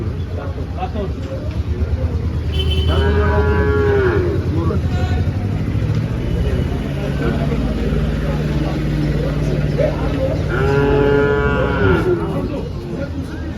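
Gir cows at a busy cattle market in Dhule bellow two drawn-out moos several seconds apart, loud and nearby, over constant crowd chatter and someone talking close by.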